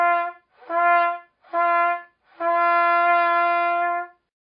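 Trumpet notes started with a breathy 'ha' instead of the tongue: three short separate tones followed by one long sustained note, each with a soft, slightly blurred onset, played alone and close.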